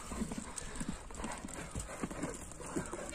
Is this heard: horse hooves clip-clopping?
yes